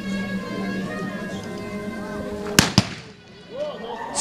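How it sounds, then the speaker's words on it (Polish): Revolver shots in a staged Wild West gunfight show between a lawman and a gunslinger in an arena: two sharp, loud cracks in quick succession, ringing out over background music and crowd murmur. "Celny strzał i leży martwy Morgan"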